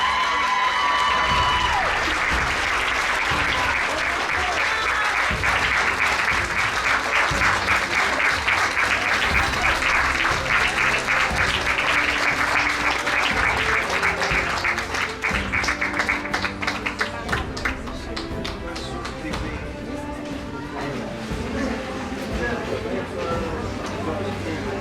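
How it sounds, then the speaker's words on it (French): An audience at a Miss Photogénie pageant gives Félicia a long, loud round of applause with scattered cheers. A host's voice runs over the clapping, which thins out toward the end. "Encore un tonnerre d'applaudissements pour Félicia."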